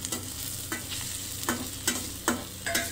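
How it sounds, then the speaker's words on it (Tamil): Tomatoes sautéing in hot oil with curry leaves for a vegetable fry, a steady sizzle punctuated by a regular rhythm of six or seven spatula scrapes against the pan. "தக்காளியை நல்லா வதக்கிக்கோங்க"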